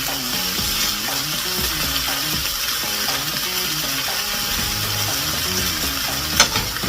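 Egg and cheese sandwich frying in a pan, a steady loud close sizzle throughout with a brief scrape near the end, no talking.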